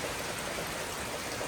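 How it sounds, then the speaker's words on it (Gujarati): Heavy rain pours steadily and loudly in a continuous broadband hiss, even and unbroken throughout, with no talk. "થોડોક પવન ધીમો પડ્યો વરસાદ વધી ગયો જોવો આવે ને જોરદાર"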